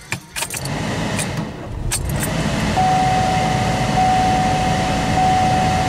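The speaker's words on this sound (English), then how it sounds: "Let's shut the car off." Keys jangle and click at the ignition of a Honda Civic as the car is switched off, followed by a steady interior hum and a thin, sustained electronic tone. The sounds are close and clear, with no talking.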